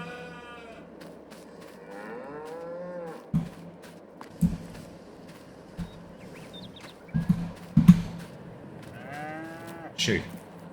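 Cows moo repeatedly in Farming Simulator 22 on a farm with gated pens, long drawn-out calls overlapping one another, with scattered knocks and thuds between them.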